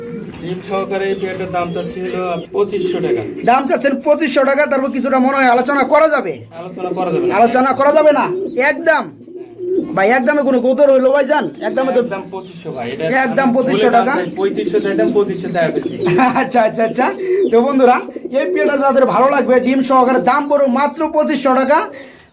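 Pigeons coo continuously up close, throaty repeated calls from a female pigeon and her pair overlapping with someone talking throughout, at a pigeon sale.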